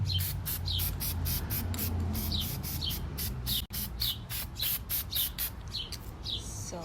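An aerial spray can hisses in a rapid series of short regular bursts, close and loud, while gold paint goes onto real roses for a vase centerpiece.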